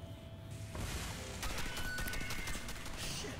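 Rapid bursts of gunfire in the video game Red Faction: Armageddon, a dense crackling volley that picks up after a quieter start and stays steady under game noise.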